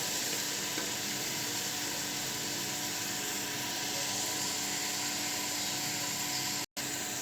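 Meat simmers in a pot for a Senegalese mafé peanut sauce, giving a continuous, even sizzling hiss that broke off for a moment near the end.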